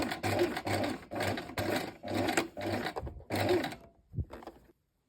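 A sewing machine stitches the waistband of Palma shorts in rapid bursts, about seven short runs of needle chatter separated by brief pauses, close and clear, ending in a couple of mechanical clunks before silence.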